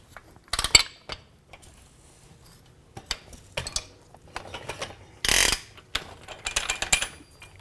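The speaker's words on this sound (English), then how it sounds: "Compress the system and install the lower spring perch." A Polaris RZR Turbo S Dynamix dual-rate spring shock being compressed while its lower spring perch is fitted, producing scattered metallic clicks, ratcheting clatter and brief harsh bursts against a quiet workshop background.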